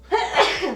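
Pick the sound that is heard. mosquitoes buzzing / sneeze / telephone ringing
sneeze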